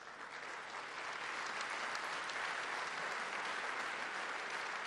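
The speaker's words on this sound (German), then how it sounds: "Applaus" Sustained applause from a crowd at a German political speech, an even wash of clapping that holds steady throughout at a moderate distance.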